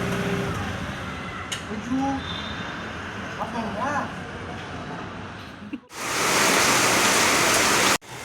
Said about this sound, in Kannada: ಸಡನ್ನಾಗಿ ಮಳೆ ಸ್ಟಾರ್ಟ್ ಆಗಿಬಿಟ್ಟಿದೆ